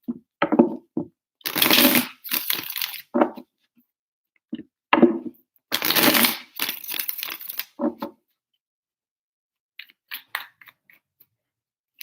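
Tarot cards are shuffled by hand close up in several crisp riffling bursts, two of them longer and louder, broken by quieter taps and pauses.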